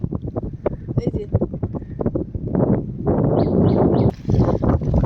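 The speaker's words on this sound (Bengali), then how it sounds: "এই যে তুফানটা হচ্ছে দেখুন, নৌকা কিন্তু একবার নিচে নিয়ে যাচ্ছে, একবার ওপরে তুলছে।" Storm wind gusts hard across a river around a small fishing boat rocking on the waves, loud and roaring as it buffets the microphone, with rhythmic choppy thumps early on giving way to a continuous rushing blast.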